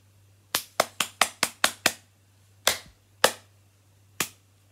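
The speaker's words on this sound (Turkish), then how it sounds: "Niye böyle alkış çalamıyoruz?" Sharp single hand claps, seven in a quick even burst and then three more spaced farther apart, each crisp and close, over a low steady hum.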